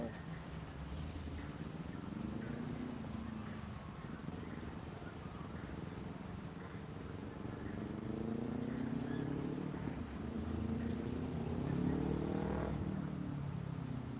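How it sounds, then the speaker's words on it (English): A faint motorcycle engine drones and revs in the distance, rising and falling in pitch over a constant background hiss. "I think that's a motorcycle somewhere making noise."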